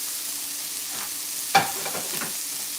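Chorizo sausage browning in a frying pan, a soft steady sizzle with a brief clatter of stirring partway through, fairly quiet and without talk.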